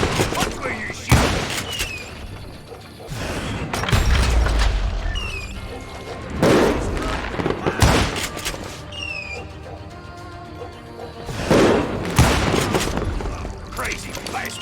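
Gunfire in a Western shooter set in a saloon in Call of Juarez: Gunslinger, with repeated loud shots and booming impacts under game music, while voices shout over the action.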